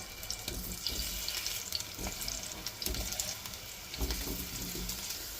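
Steady crackling sizzle of potatoes frying in hot oil, fairly quiet and continuous, with no voices.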